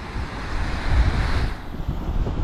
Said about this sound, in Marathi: हे बघा समुद्र खवळलेला आहे बघा. हे बघा हायटाईड आहे आज